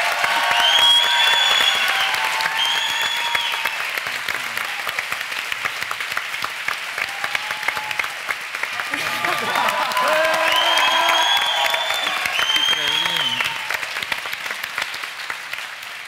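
Huge applause and cheering from an audience at an open HIV discussion event, a sustained roar of clapping with shouts and whistles rising over it, voices calling out at times.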